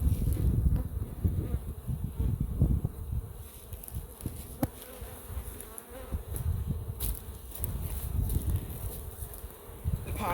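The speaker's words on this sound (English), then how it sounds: "a fair number of bees that have yet to crawl in" Honey bees swarm in a dense, steady buzz around a hive during a spring package installation, the drone holding for the whole stretch with shifting nearby wing noise and some rustling.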